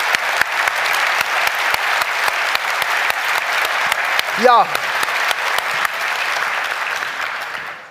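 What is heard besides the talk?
audience applause for the jurors Toni and Wolfgang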